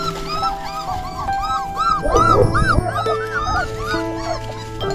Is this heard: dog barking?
yes